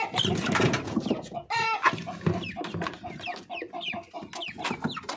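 Fighting-breed chicks give a busy stream of short, high, near cheeps and peeps, overlapping continuously with no talking.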